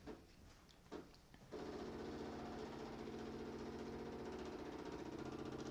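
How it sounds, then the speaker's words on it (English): A Tassimo coffee machine brewing iced coffee from a T-disc makes a few faint clicks, then a loud, steady pump drone with a rapid buzzing pulse that runs on continuously and close by. "hit the big silver button"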